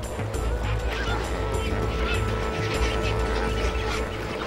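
A vast flock of flamingos massed at Lake Bogoria honks and calls continuously, a dense, loud wall of overlapping bird cries with no pauses.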